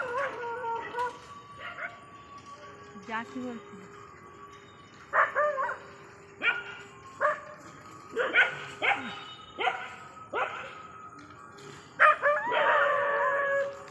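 Dogs barking at night outdoors, a series of loud, repeated barks and some howl-like yelps in irregular bursts, close by, with a brief voice speaking early on.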